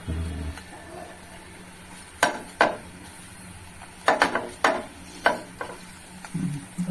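A Bengali vegetarian paratha frying in a pan while its edges are pressed down, with a faint steady sizzle broken by a few sharp utensil scrapes and taps against the pan, close by and without speech.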